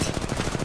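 Kraber sniper rifle fire in Apex Legends: a short, dense, loud burst of rapid gunfire-like pulses, close and unbroken for under a second.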